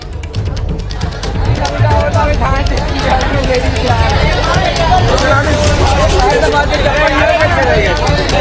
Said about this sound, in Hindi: आपके पीछे तो मुझे खासी भीड़ नजर आ रही है, मतलब प्रदर्शन कर रहे मजदूर अभी भी यहाँ पर डटे हुए हैं